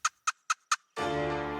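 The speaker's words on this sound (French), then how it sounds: "Un gros mâle mature à la barbe très longue répond par sa présence et par ses vocalises" A big mature wild turkey gobbler with a very long beard, out on a spring hunt. Four short, sharp calls come in even rhythm, then a loud, rich gobble rolls out close and clear with no voices.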